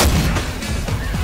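Gunfire in the zombie shooter Left 4 Dead 2 during a Hard Rain round, a loud, close run of heavy booming shots with no talking.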